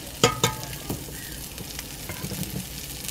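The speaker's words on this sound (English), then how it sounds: "gonna fry up these onions" Onions fry in a pan with leftover patty grease, giving a steady close sizzle with a couple of sharper stirring clinks near the start.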